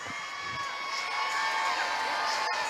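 Arena crowd in Houston cheering and whooping for Steph Curry, a broad, steady roar of many voices that swells slightly and holds throughout, with scattered shouts.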